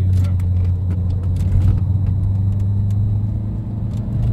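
A Renault Megane 2 RS dCi diesel on the road gives a steady low engine drone and tyre rumble from inside the cabin, with small knocks and rattles over the surface.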